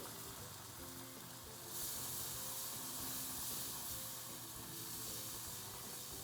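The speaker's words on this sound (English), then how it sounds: "this will bubble when you add the cream" Hot homemade salted caramel sauce bubbles and hisses loudly in a pan as cream is poured in, a dense sizzling wash that surges midway and holds steady.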